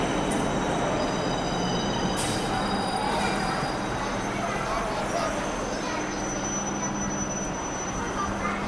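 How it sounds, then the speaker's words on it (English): A passenger train in Chennai, Tamil Nadu rumbles along the rails with a constant, loud, dense roar and a thin metallic squeal riding above it, while people talk faintly in the background. "I'm going to travel the train"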